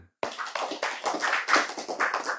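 Group hand clapping in an Indonesian Islamic religious gathering bursts in after a brief silence, a rapid, loud, uneven volley of claps that continues to the end.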